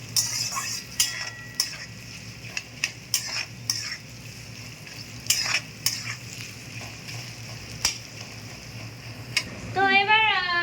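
Chopped onions fry in oil in a kadai, a low sizzle under repeated clinks and scrapes of a spatula against the pan, with a brief rising squeak near the end.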